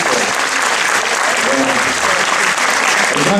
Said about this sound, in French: Donc je vous demande de vous applaudir.